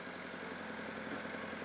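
A backhoe's diesel engine idling nearby in a steady, even rumble with a low throbbing pulse, unbroken for the short stretch.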